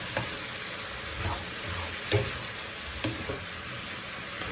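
Mushrooms cooking in a hot pan give off a low, steady sizzle and fry, broken by a few soft stirring knocks. No voices are heard.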